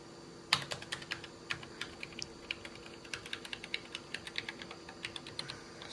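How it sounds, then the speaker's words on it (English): Quick, irregular clicks of keys pressed one after another on the keyboard of a Vendex Headstart Turbo 888 XT during a stuck-key check, close and crisp, with no voices. "Parallel port keyboard test. So we're going to check for stuck keys."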